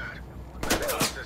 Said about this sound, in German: Irgendwas geschossen worden.